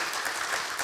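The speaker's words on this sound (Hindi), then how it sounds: "और जोर से ताली बजाओ" A congregation applauds at a Hindi Sunday church service at Kinoya Assembly. The clapping is dense and even, loud and steady, and lasts under a second.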